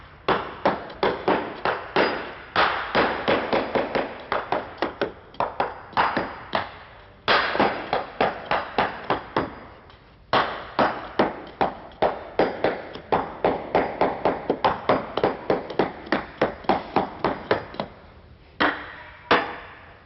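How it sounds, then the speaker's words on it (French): Hammer blows on a piece of wooden rafter tamping concrete into a window-sill formwork, a steady run of loud, sharp knocks in quick bursts, with a few short pauses between series. "Et le serre à l'aide du morceau de chevron et du marteau."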